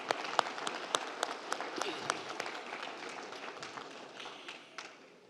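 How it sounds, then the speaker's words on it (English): An audience at a school district board of trustees meeting applauding an education award recipient, scattered claps, faint and somewhat distant, petering out over a few seconds with a murmur of voices underneath. "Let's give Mr. Hicks a round of applause as he comes forward."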